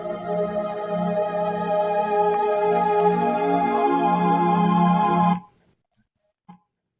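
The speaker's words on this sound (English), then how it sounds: "I basically did the same with keyboards and created this intro before the song itself came in" A synth keyboard intro played by riding mixing-board faders, with sustained layered chords swelling and shifting for about five seconds before cutting off abruptly, followed by a faint brief blip.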